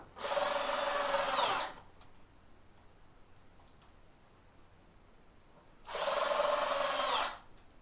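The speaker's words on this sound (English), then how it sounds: "I attach the finished, sanded, shaped legs with glue and some drywall screws" A power drill drives drywall screws to fix sanded, shaped mulberry table legs to a natural-edge slab: two loud, close bursts of whirring about a second and a half each, separated by several seconds of near silence.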